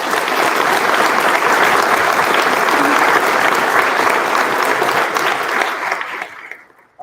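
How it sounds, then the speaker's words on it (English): An audience at a winter university convocation ceremony gives staff and faculty a loud, sustained round of applause that fills the hall, then fades out abruptly near the end. "So if everyone could give the staff and faculty a round of applause,"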